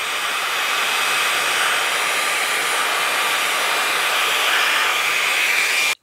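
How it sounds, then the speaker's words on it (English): A HOTO handheld air duster switched to vacuum mode pulls up loose debris with a steady, loud, high-pitched whirring whine that holds without a break until it cuts off abruptly at the end. "Now you have a vacuum."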